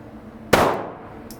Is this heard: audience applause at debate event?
no